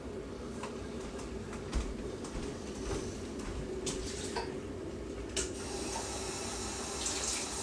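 Water runs from a tap in a steady, even splashing stream that stays at a fairly low level throughout, with no talking over it.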